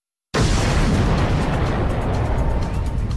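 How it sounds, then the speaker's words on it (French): A Big Bang fireball explosion effect erupts suddenly after a brief silence, a loud broadband blast that sustains as a rumbling roar for about three seconds. "C'est l'explosion de ce point,"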